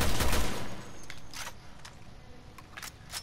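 Gunfire in the video game Resident Evil Revelations 2: a loud opening burst, then sharp single shots spaced irregularly across a few seconds, with no talk over them.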